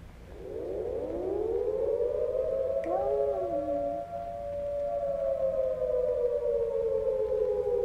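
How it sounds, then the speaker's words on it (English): Civil defense siren giving an attack warning: a loud rising wail that climbs and holds, with a second tone briefly swooping down partway through, continuing steadily to the end without speech. "Now for the attack warning."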